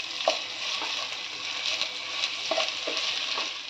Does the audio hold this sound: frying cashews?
yes